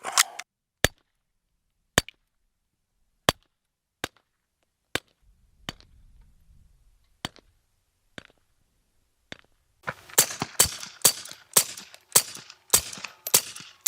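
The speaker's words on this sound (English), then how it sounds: "This is a 380 PPK that's been converted to 32 automatic." A suppressed Walther PPK pistol converted from .380 to .32 automatic fires a string of sharp, evenly spaced shots about a second apart, followed by a denser cluster of clattering impacts at the end.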